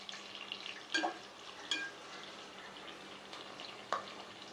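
Onion pieces and cashews frying in a pan, a soft continuous sizzle with a few sharp stirring clinks of a utensil against the pan.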